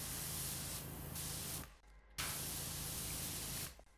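Power washer spraying in the video game PowerWash Simulator 2, a loud hissing jet of water in two long continuous bursts separated by a brief pause, ending abruptly.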